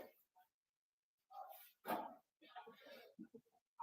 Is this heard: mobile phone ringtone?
no